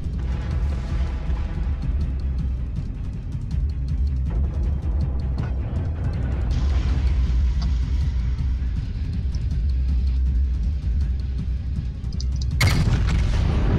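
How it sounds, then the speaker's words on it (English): Yamato battleship secondary guns firing in World of Warships, a continuous dense rumble of repeated booming shots and engine roar, loud and close, ending in a sharp heavier blast. "Secondaries open up"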